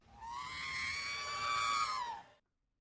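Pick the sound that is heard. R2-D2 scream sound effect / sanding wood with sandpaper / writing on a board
R2-D2 scream sound effect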